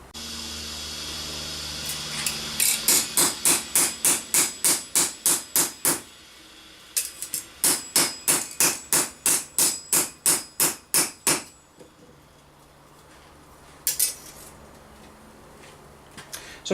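A hammer strikes a 3/4 inch steel strip being straightened for medieval armor hinges, delivering two long runs of rapid, evenly spaced ringing blows separated by a short pause, then a few isolated taps near the end.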